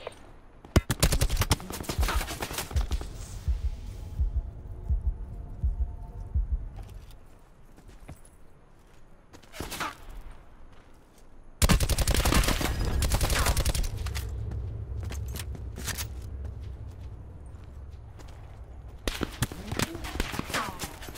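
Video game gunfire in Black Ops Blackout, bursts of rapid automatic shots and single cracks in uneven clusters, loud and near at times with quieter gaps between.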